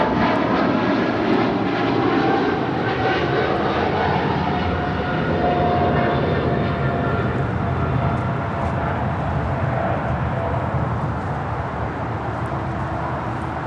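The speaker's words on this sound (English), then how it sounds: "This is Japan Airlines Flight 15 taking off to Tokyo Haneda on a 777-300ER" A Japan Airlines Boeing 777-300ER taking off from LAX for Tokyo Haneda, its jet engines roaring loud and steady, then slowly easing as the aircraft climbs away.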